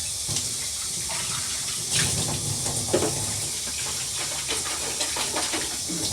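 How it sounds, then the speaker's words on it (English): Cold tap water runs into a sink to rinse out the tank of a Bissell Spot Clean Professional portable carpet cleaner, a continuous hissing splash with a few brief surges and clatters. "So we're going to now rinse this out with cold water."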